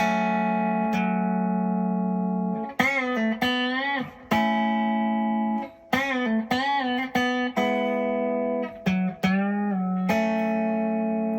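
Electric guitar plays sustained triads and notes, shifting between shapes with quick changes and ringing harmonics, no voices.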